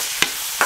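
Chicken lightly frying in a pan for spicy chilli chicken, a steady hiss of oil with two brief stirring scrapes breaking through, close and fairly loud, with no voices.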